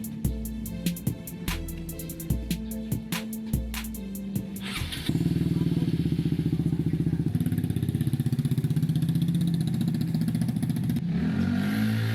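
A motorcycle engine that sounds two-stroke starts with a few sputtering, uneven pops and revs. It then settles into a loud, steady, buzzy idle close by and ends with a short throttle blip.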